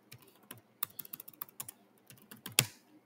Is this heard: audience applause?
no